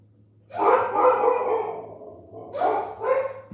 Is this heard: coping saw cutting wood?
no